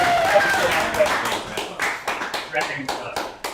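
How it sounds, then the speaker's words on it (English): A round of applause for a guest joining a livestream show, a short burst of clapping from a few people close by, uneven and tapping, fading over a few seconds. "Let's get a round of applause."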